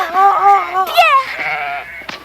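Goats bleat loudly and up close, wavering cries overlapping one another, with a short sharp knock at the end.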